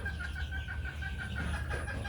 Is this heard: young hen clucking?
yes